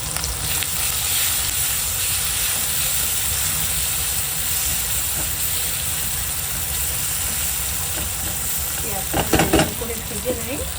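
Sliced onions fry in hot oil in a home kitchen, giving a continuous close sizzling hiss with a brief clatter of stirring near the end.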